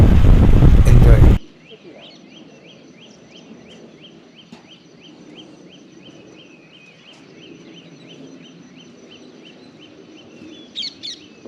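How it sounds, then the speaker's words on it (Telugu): Birds singing beside Dandiganahalli Dam: after a brief loud voice at the start, a steady run of repeated chirps carries on over a faint, low outdoor background, with a few sharper calls near the end. "ఒక్క సైడ్ వాటర్ సౌండ్, ఒక సైడ్ నేచర్ సౌండ్, ఒక సైడ్ పక్షులు."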